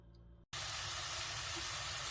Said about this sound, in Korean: 새우를 볶아주세요.